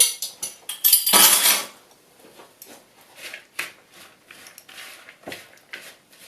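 Cheese bread ingredients with molasses are mixed in a bowl with a utensil, giving a burst of rapid clinking and scraping at first, then quieter intermittent taps and scrapes.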